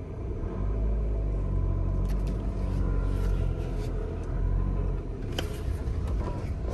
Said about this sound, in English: I'm going to press the gas pedal so that it gets the fuel to go forward, and that's how the car will move.